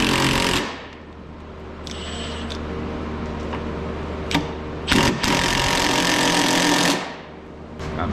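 Power tool loosening a 15 mm lower ball joint bolt on a Chrysler PT Cruiser, a loud steady mechanical whir running several seconds with a brief pause and a clank midway, then stopping.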